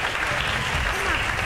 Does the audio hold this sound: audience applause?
yes